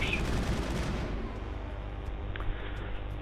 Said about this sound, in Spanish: Vamos a ver si podemos freír a tiros.